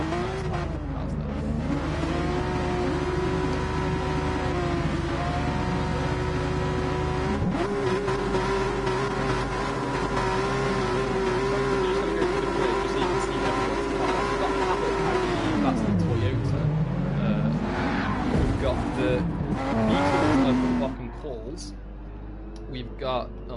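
Race cars in Gran Turismo Sport at a practice start in Spain: a dense, sustained engine roar with rising and falling revs from a pack of cars, loud throughout with commentary talking over it, easing near the end.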